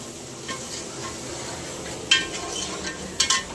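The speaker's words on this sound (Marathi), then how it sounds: "कांदा टाकलेला आहे, शिजून घेऊ पूर्णपणे कांदा." Onion frying in a pan with a faint steady sizzle, a spatula scraping and clinking against the metal a few times, quiet and close, no voices.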